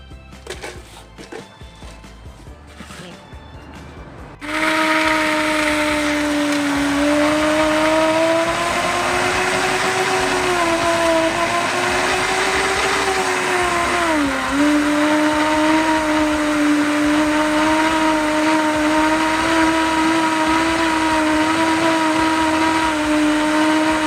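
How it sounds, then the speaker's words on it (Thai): A blender whirs steadily after a quiet start, spinning iced pink milk drink with ice and premixed liquid, its motor pitch dipping briefly under load then holding loud and close for about twenty seconds. "เราจะปั่นตัวนมเย็นก่อนนะคะ"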